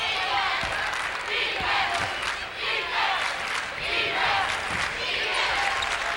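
A basketball crowd at a Howells versus Spencer Naper high school game roars and chants steadily for defense. The noise is loud and continuous, with rhythmic surges and a basketball bouncing on the court underneath.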